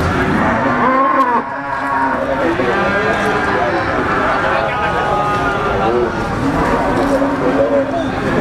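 Black Pegon cattle moo repeatedly at a busy cattle market in Blitar, East Java, with loud, overlapping calls from several animals rising over steady crowd noise and background chatter.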